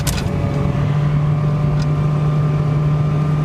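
Honda Civic engine droning steadily while driving, held at a constant pitch near 4,000 RPM without climbing, a loud, continuous hum with road noise and no talk.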